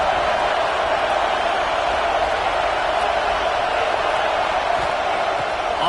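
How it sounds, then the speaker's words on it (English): A packed stadium crowd roars without a break at a Gators American football game, a loud, dense, sustained wash of noise from thousands of fans trying to rattle the girders and back their defense. "Listen to this crowd just shaking the girders of this place"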